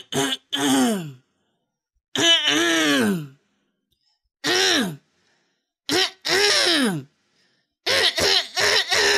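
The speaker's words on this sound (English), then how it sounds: "Now, start by clearing your throat." Several harsh, voiced throat-clearing grunts and coughs come in separate loud bursts with short gaps, the last ones bunched quickly together, close and dry.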